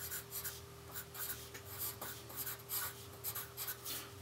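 Pencil writing letters on paper, a close, faint scratching of short strokes in quick irregular rhythm, heard alone.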